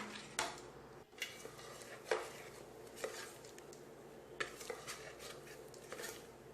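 Thirupagam sweet mixture stirred with ghee in a pan gives faint, scattered scrapes and clinks of a utensil against metal, quiet and irregular in a still kitchen.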